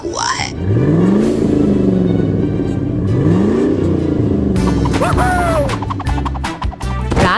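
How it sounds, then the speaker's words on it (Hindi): A cartoon monster truck rumbles and revs along deserted night roads amid crackling thunder, its engine surging in loud sweeping whooshes with crashing impacts and a brief high squeal near the end, no talking. "रात गहराती है और बिजली की खड़खड़ाहट के बीच मॉन्स्टर ट्रक सुनसान रास्तों से गुजरता है।"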